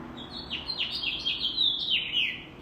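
A male house finch sings a bright, warbling song of quick rising and falling notes at a feeder, continuous and fairly close, with no other sounds.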